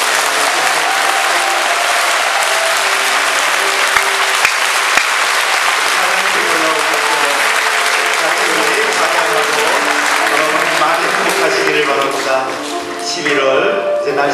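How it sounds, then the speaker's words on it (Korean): A church congregation claps warmly for a drama team, with loud, even, continuous applause filling the room and tapering slightly near the end. "여러분 뜨거운 박수로 이분들을"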